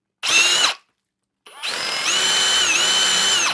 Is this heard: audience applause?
no